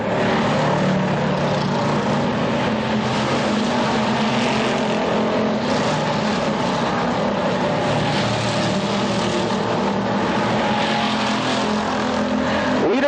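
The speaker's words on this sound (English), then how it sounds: "Goes into turn number 3, the 78 car, Earl Powers Jr." Sportsman stock cars race around an oval at the Orange County Fair Speedway in a 100-lap enduro, their engines forming a steady, loud roar that drones on for the whole stretch.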